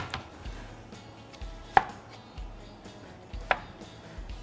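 Shallots being sliced thinly with a knife on a cutting board, a series of crisp, evenly spaced chops close by with a couple of sharper clacks, no talking.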